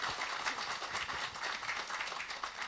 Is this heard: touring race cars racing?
no